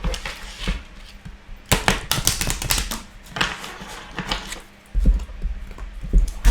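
Oracle cards shuffled by hand, giving close, rapid bursts of flicking and riffling clatter that come in uneven clusters with short pauses between.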